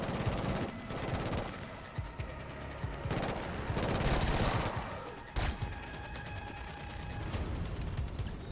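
Gunfire in Killzone Shadow Fall on Elite mode, with dense continuous shooting and mechanical clatter, loud and close throughout.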